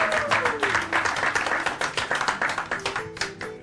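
Audience applause at a Cameroonian press conference in Washington, a steady burst of many hands clapping close by for nearly four seconds, with a brief voice at the start.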